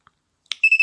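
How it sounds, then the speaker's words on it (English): A homemade Arduino calculator watch with a bubble display sounds its alarm: a faint tick and click, then a thin, shrill electronic beep pulsing in three quick bursts, close and alone. "So you can see that the alarm works."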